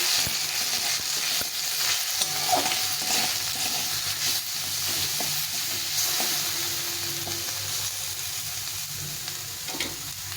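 Cumin and chili powder masala frying in oil in a pan for egg biryani, a loud steady sizzle with intermittent stirring scrapes and clinks up close, no speech.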